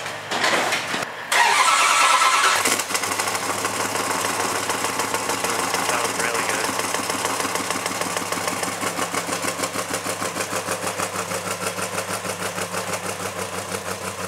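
A 1966 Dodge Dart's engine cranks briefly, catches and settles into a loud, close, rhythmic idle with a lumpy, pulsing beat.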